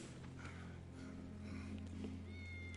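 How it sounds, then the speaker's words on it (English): A cat in Final Fantasy VII Remake meows faintly at a distance, soft and brief over a low steady game hum with a thin high tone near the end. "That's Wedge's cat."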